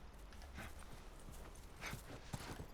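Horse hooves clip-clopping in The Last of Us video game, faint and quick, with irregular beats over a soft background.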